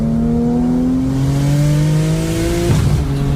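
Race car pulling hard at full throttle, a loud close engine note climbing steadily in pitch, then a quick break at a gearshift before it picks up again.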